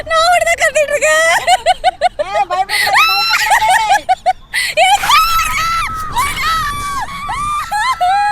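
Shrill, repeated screams rise and fall over several seconds, mixed with frightened cries and some voices, as riders shriek on an amusement park thrill ride.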